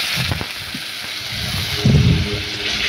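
Water poured into sizzling onion paste with turmeric and chilli powder masala for a pangas fish curry, a loud hiss and bubbling with a sharp burst of sputtering partway through, no voices.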